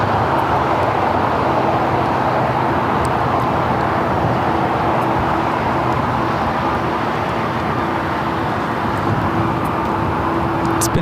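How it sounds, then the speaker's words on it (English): Boeing 777-300ER taxiing and turning onto a taxiway, a steady, loud broadband jet engine rumble with a faint whine, continuous and unchanging throughout, with no talk. "777-300ER now making that left-hand turn onto Lima"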